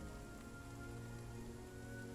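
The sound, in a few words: rain in misty highland forest weather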